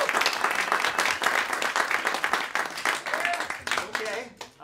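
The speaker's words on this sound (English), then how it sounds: "Please give a big hand of, round of applause for Angela Bingham." Applause from a jazz concert audience, a dense spread of claps that holds steady at moderate loudness, then thins and fades near the end, with some voices mixed in.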